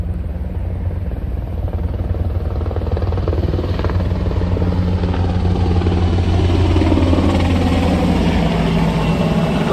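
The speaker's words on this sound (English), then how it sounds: "Love their helicopters." A helicopter flies overhead with a loud, continuous rotor chop and engine drone that builds slightly in intensity throughout.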